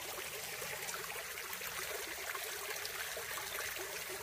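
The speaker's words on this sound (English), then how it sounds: "Heard some water running." A small stream along a wooded hiking trail runs steadily, a soft continuous hiss and trickle of water at a moderate distance with no other sounds.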